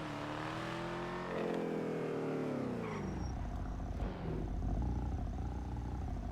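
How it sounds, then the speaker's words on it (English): A car engine in the FiveM game roars and revs, rising and falling in pitch with a throaty growl. It is fairly loud and steady throughout, with no talk. "I hate the sound of this car."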